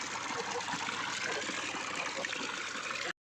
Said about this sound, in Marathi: आता बघ किती तळ पाणी आलं